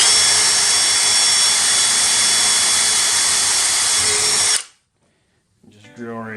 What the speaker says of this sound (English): Then what I'm going to do is get my drill